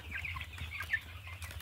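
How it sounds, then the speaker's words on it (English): Two-week-old Cornish Rock cross meat chicks in a brooder, a faint cluster of soft peeping and chirping calls over a low steady hum, quiet and close. "So these are Cornish rock cross meat chickens right at 2 weeks old"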